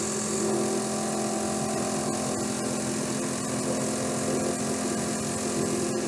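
A series-wound electric motor spins up with all load removed, giving a steady, loud mechanical whine and hum with strong tonal bands that hold throughout, with no voices.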